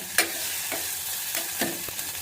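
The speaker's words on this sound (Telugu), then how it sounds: "వేసి ఇది కూడా మంచిగా ఇలాగా రోస్ట్ అయ్యే వరకు కలిపెడుతూ ఉందాము." Carrot and capsicum are stirred and roasted in a pan for sweet corn soup, a constant sizzle broken by a few sharp scrapes and clicks of the spoon against the pan.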